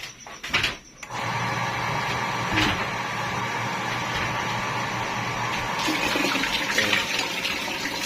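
Water runs from a tap in a steady, close rush after a few brief clatters at the start, continuing unbroken to the end.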